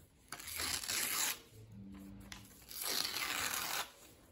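Paper having its edges cut in two quiet, rasping strokes, each lasting about a second, close by with a soft pause between them.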